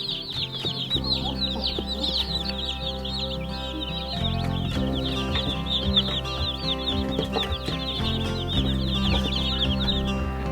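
A flock of chickens clucking and chirping continuously, with soft music playing underneath throughout.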